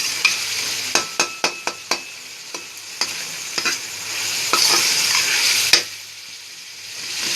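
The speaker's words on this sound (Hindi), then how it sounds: "टमाटर, सब्ज़ मिर्च, काली मिर्च, नमक, अदरक का पेस्ट, ये सारी चीज़ें हम इकट्ठी अब फ्राई कर रहे हैं।" Boneless chicken with tomato, green chillies, black pepper, salt and ginger paste fries and sizzles in a pan, with a steady hiss and a run of sharp spoon clinks and scrapes from stirring, no talk.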